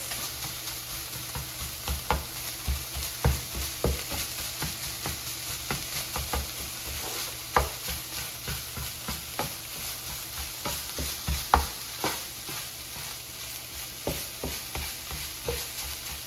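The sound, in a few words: stirring ground turkey with chili powder seasoning in pan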